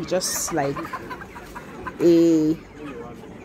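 Laying hens on a farm cluck in short bursts, with one louder drawn-out squawk midway, close by, while a person talks briefly at the start.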